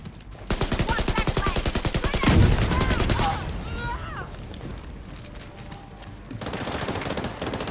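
Rapid automatic gunfire crackles in The Division 2 video game, a loud, fast burst lasting about three seconds, followed by further shots and battle noise while a player talks.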